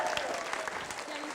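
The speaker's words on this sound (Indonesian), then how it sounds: "tepuk tangan dong keluarga Nelly Agustin." A family in a studio audience claps on a comedy variety show in a brief burst of applause with voices talking over it.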